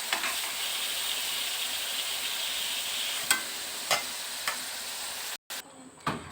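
Paneer sizzles steadily in hot oil in a kadai, a broad, even frying hiss that runs unbroken, marked by a few faint clinks and taps, and cuts out sharply near the end.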